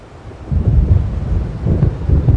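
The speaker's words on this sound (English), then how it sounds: "It seems there's a storm coming." Deep rolling thunder from an approaching storm in the Alan Wake video game, loud and close, rumbling in two long swells over a faint wash of rain and wind.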